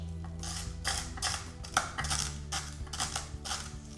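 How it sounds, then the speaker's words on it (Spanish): A knife chops dried bread into small pieces for Aragonese migas, a run of sharp, closely spaced cutting knocks on a board at close range over a low background hum, with no voices. "el conseguir las migas es tan fácil como ponernos a picar"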